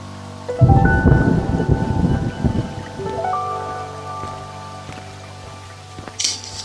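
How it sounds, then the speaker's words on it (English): Raindrops drum on a barn roof during a night storm, a dense rushing patter with a heavy low rumble building early and then easing, while tonal music-like sounds hover over the rain. "Listen to all the raindrops hitting the roof."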